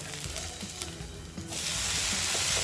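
Maggi dosa frying on a pan over medium gas, a soft close sizzle with small scraping clicks, then a sudden steady hiss of frying that swells and holds to the end, with no talking.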